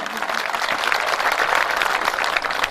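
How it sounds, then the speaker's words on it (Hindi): An audience at a Hindi comic poetry gathering in Mhow claps loudly and continuously in a dense, sustained burst of applause filling the short stretch. "एक बार जोरदार तालियां बजाकर बताइए कि आप सुन रहे हैं।"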